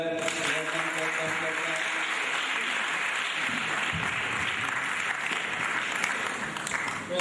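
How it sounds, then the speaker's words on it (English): An audience at a first graduation ceremony claps steadily and loudly throughout, a dense sustained round of applause. "Just clap."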